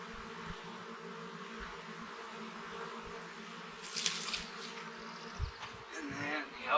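Honey bees buzz around an opened hive while new nucs are installed, a steady close drone with denser swells of buzzing near the middle and end, plus soft handling knocks.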